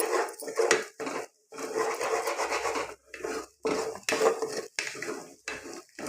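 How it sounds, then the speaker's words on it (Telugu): Egg frying in a pan as noodles are prepared, with a utensil scraping and stirring in bursts of rubbing, clattering strokes separated by short pauses, close and fairly loud. "మనకి ఎగ్గు ఫ్రై అవ్వాలి కొంచెం బాగా"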